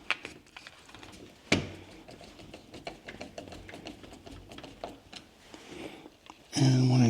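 Screws are driven in by hand while mounting an Arpha AL501 fingerprint smart door lock: a quiet run of small ratcheting clicks and scrapes, with a sharp knock partway through and a louder mechanical whir at the end.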